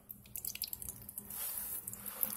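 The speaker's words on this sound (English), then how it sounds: "you're gonna have water dripping in from the line" Water drips from a supply line after a toilet shut-off valve is pulled off, a faint irregular patter of small drops with a soft watery hiss in a quiet room.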